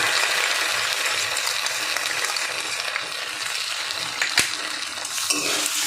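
Egg bhujia curry with tomato sauce stirred in a pan over a low gas flame: a continuous soft sizzle broken by occasional sharp clinks of a spoon against the pan.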